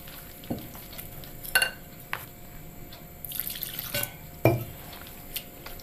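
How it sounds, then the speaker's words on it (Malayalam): Sukhiyan batter of rice flour, salt and turmeric is mixed while water is poured in bit by bit, with intermittent scraping strokes, brief splashes and several sharp clinks of a utensil against the bowl. "ഇനി അതിലേക്ക് വെള്ളം കുറേശ്ശെ ഒഴിച്ച് മിക്സ് ചെയ്യാം."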